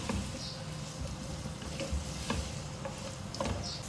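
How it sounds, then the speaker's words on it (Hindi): Sliced onions fry in a pan for mutton bhindi gosht, a steady close sizzle with occasional stirring scrapes, no voices. "फ्राई करेंगे इसको, अच्छा सा प्याज का गोल्डन कलर करना है।"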